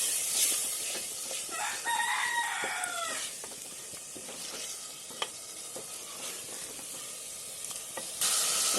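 Cumin and coriander powder sauté in a pan of oil for a fish curry, a steady hiss with occasional stirring scrapes, while a rooster crows in the background partway through.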